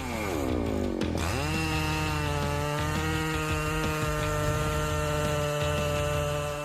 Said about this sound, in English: The resounding sound of the Husqvarna 3120 XP chain saw makes us admire the power it